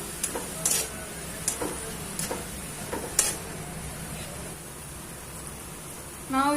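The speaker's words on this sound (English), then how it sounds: "and the capsicum, we saute it for some time" Capsicum and mixed vegetables sautéing in a pan, with a steady low sizzle and a few sharp scrapes and stirs of a spoon against the metal, and a brief clatter near the end.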